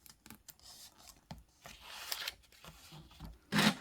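Paper pages of a book being folded for a book-folding art piece, soft scattered rubs and creases building to a louder crisp swish at the end, close and quiet with no voices.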